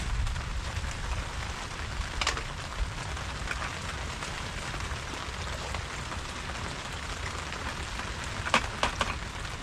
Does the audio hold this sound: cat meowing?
no